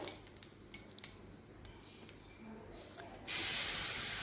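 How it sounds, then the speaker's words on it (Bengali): A few light utensil clinks, then a sudden loud, hissing sizzle as a wet cumin-coriander spice paste hits hot oil and keeps crackling. "দেখো আমি ছেড়ে দিলাম মশলাটা"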